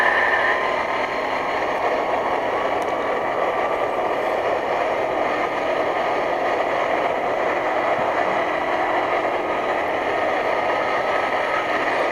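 A kart is driven around the Wilson circuit at Pitt Race, its engine a steady, unbroken drone at constant pitch under rushing wind, with no talking.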